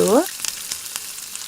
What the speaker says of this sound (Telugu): రెండో వైపు కూడా ఫ్రై చేసుకుంటూ ఉంటే మనకి రెడీ అయిపోతుందండి ఫిష్ ఫ్రై